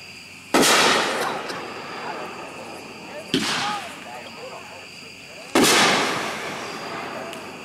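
Fireworks cake called One of Us is Lying at a fireworks demo, with three sharp loud bursts each followed by crackling decay, heard outdoors at a moderate distance.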